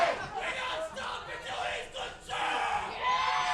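A fired-up wrestling crowd at a live Total Rassling event roars and cheers in a steady, dense wall of voices, with shouts and whoops rising and falling and a louder surge toward the end.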